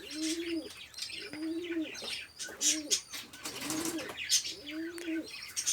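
A male pigeon courting during mating gives repeated soft coos in a steady rhythm, close and fairly clear, with a few chirps and wing flaps in between.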